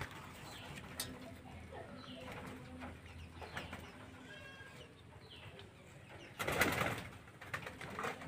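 Pigeons coo softly at close range, with scattered clucking calls and a brief burst of flapping or scuffling near the end, against a steady low background hum.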